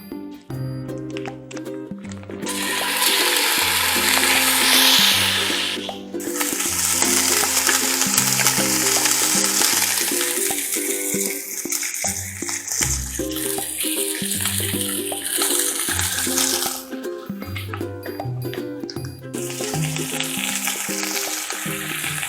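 Loud, steady frying and sizzling of Italian sausage and 80/20 ground beef in a pot while they brown, running almost continuously with occasional stirring and scraping.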